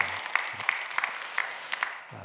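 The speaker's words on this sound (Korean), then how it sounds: "다시 한번 박수 한번 해주셔요." A church congregation claps together at an early-morning service, a dense burst of applause with sharp individual claps standing out, fading out within about two seconds.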